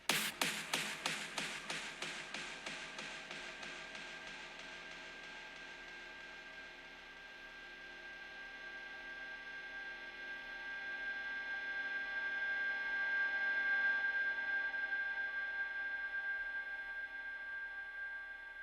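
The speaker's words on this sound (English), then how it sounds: "it starts off as a normal kind of clap, but then it transitions slowly into more like reverby atmosphere" A psytrance clap that starts with a run of sharp, rhythmic hits, then dissolves into a long reverb-washed atmospheric wash with a resonant tonal ring. The tail swells and fades slowly, with no voice present.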